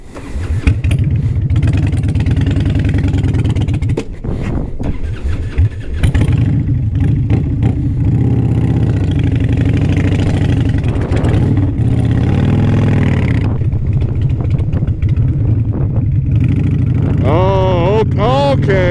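Harley-Davidson motorcycle ridden at speed, its engine droning and revving loudly and continuously close by, with wind buffeting and shifts in pitch as it changes gear; a rider's voice comes in near the end.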